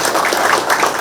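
Guests clap at a campaign office opening for a Gumi mayoral candidate, a brief burst of loud, dense applause from a crowd in an indoor room.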